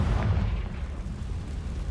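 A Confringo blasting spell in Hogwarts Legacy sets off a loud, low booming explosion with a rumbling tail that fades slowly over about two seconds, with no voices.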